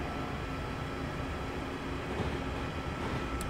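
Trains rumble past on busy lines in Train Sim 2019's Trent Valley route, a steady, dense low roar of rolling wagons that holds at an even level throughout without any talking.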